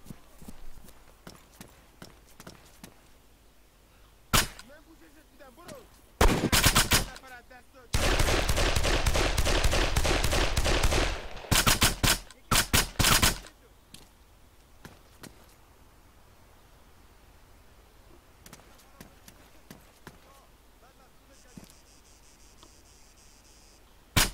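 Gunfire in the military shooter video game Arma 3, scattered sharp shots followed by a dense sustained burst of rapid automatic fire, then sporadic single shots and footsteps.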